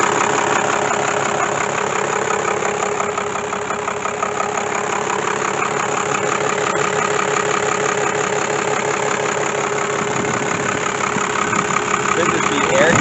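An International Loadstar truck engine runs steadily close by with its turbo spinning, giving a constant, loud, unbroken rumble and whine that holds without pause.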